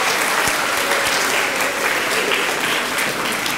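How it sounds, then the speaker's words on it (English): Warm round of applause from an audience at a youth speaking event, loud continuous clapping filling the room for several seconds without a break. "Give her a round of applause."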